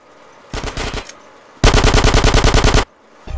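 Automatic gunfire in GTA San Andreas, close and loud: a short burst of rapid shots, a pause, then a longer sustained burst of evenly spaced shots.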